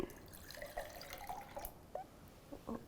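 Water colored light pink being poured into a container in a pH and ocean acidification demonstration, faint splashing and trickling with a few distinct drips standing out near the end.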